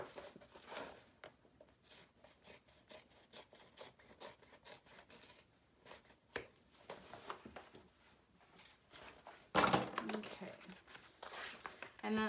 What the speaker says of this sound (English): I'm going to trim up my seam allowances